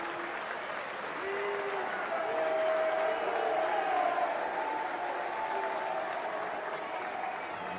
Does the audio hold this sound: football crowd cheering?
yes